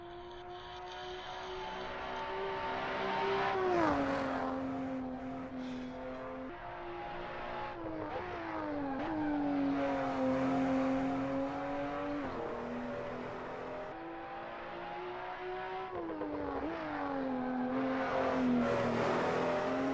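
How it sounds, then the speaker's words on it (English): A BMW M235i in the Assetto Corsa racing game runs on the Nordschleife, its engine droning and rising and falling through gear changes, with exhaust booms heard under steady engine tone for about twenty seconds. "These booms at the exhaust are just wonderful."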